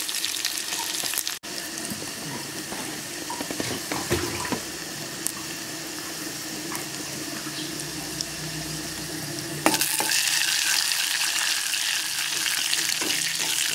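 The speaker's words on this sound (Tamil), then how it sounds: "கடுகு, கருவேப்பிலை, வெங்காயம் எல்லாம் நம்ம இப்படி பொன்னிறமாக பொறிஞ்சு வருது பாருங்கம்மா" Mustard seeds, curry leaves and onion fry in hot oil for a radish sambar, giving a steady close sizzle with soft crackles that grows louder and brighter in the last few seconds.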